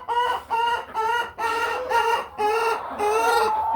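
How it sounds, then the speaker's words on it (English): Young production red hens clucking in a pen, a run of repeated nasal, tonal calls in short bursts close to the listener, with no talking. "There's a chicken right there."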